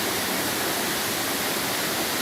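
A small stream near a waterfall in Dong Nai province rushes steadily close by, a loud, unbroken hiss of flowing water with no voices.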